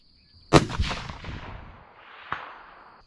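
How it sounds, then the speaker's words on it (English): A single loud 25 Creedmoor rifle shot firing a 134 grain Hornady ELDM bullet, a sharp crack followed by a rolling echo that fades over about two seconds, with a fainter distant report or impact near the end. "I'm going to shoot the far left circle."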